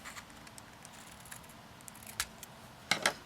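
Scissors snipping off the corner of a handmade paper envelope, a few quiet, close clipping sounds, with the two crispest cuts near the end, in an otherwise hushed room.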